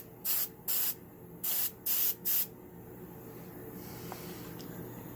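An air compressor blows air through a nozzle in five short, loud bursts, then settles into a steady, quieter hiss of continuous airflow close by.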